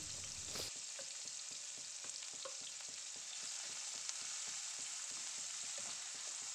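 Chopped onion, two onions' worth, fries with a spoonful of cumin seeds in hot oil, a steady close hiss broken by regular light taps of stirring, with no voices.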